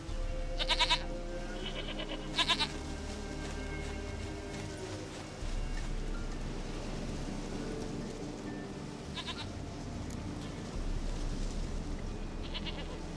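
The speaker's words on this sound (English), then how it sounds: "Goat of mine, dearest, sweetest goat." Goats bleating in The Witcher 3: Wild Hunt, several short strained bleats at intervals over a steady background of game ambience, with no voices.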